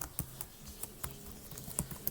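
Python code being typed on a computer keyboard, with a steady run of fairly loud, close key clicks that come in irregular bursts and have no speech over them.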